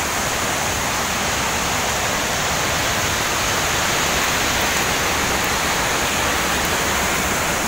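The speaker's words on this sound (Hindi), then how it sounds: "तो देख रहे झरना नीचे भी पानी का बहाव बहुत तेज़ी से है" Forest waterfall and fast-flowing river roar as a loud, dense, unbroken wash of rushing water, close and steady throughout with no voices.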